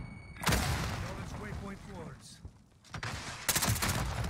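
Gunfire in the Call of Duty Warzone video game, with sharp bursts of rapid shots at the start and again near the end and game noise between, under a voice.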